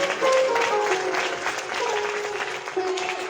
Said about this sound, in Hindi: फिर ताली सही से बजाया करो